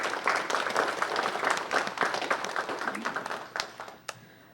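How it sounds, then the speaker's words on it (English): Audience applause at a city council meeting, a full round of clapping from a room of people that starts strong, then tapers off into a few scattered final claps. "Please give him a round of applause as well."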